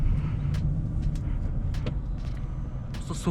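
A 2012 Mitsubishi Lancer with a 1.6 engine drives along, heard from inside the cabin as a steady low rumble with occasional faint clicks and bumps.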